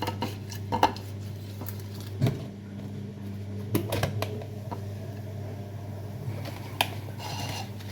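Marinated fish are set into a dish in a home kitchen, bringing a few faint, scattered clinks and light knocks of dishware against a steady low hum, with no talking.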